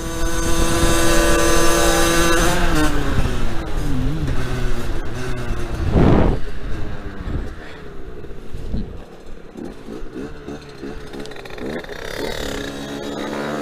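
A 125cc four-stroke dirt bike engine revs loud and close, rising and falling through the gears while overtaking on a road, with another engine passing nearby and a voice speaking over it.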